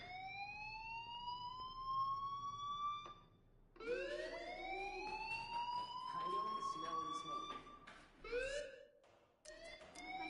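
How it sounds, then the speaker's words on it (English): Fire alarm ringing in a building, a loud wailing electronic tone that sweeps upward repeatedly in long rising whoops with brief gaps, close and steady, with voices faintly underneath. "do you hear that fire alarm?"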